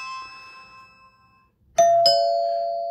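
A doorbell chime rings twice in quick succession after its button is pressed, the second tone sustaining and clear, following a quiet stretch of faint background hum.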